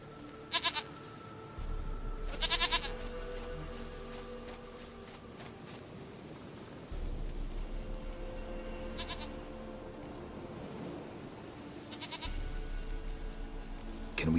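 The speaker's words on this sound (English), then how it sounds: "Goat of mine, dearest, sweetest goat." A goat in The Witcher 3 video game bleats several times in separate loud calls spaced a few seconds apart, over a low steady hum of game ambience.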